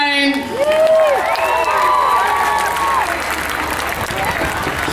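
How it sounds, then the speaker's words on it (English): A crowd at the Toowoomba Show 2016 erupts in loud applause for a performer, with whoops and high, drawn-out cheering voices over dense clapping, close and energetic throughout. "how about a huge round of applause for the man himself"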